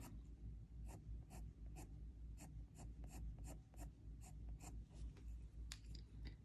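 Coloured pencil, including an indanthrene blue Prisma, shading on paper to deepen a pansy's tones, a close, quiet run of rhythmic scratchy strokes, short and regular, repeating steadily.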